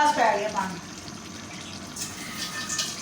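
Water poured by the glassful into a cooking pot for beef keema pulao, a short splashing gush at the start, then trickling and running water.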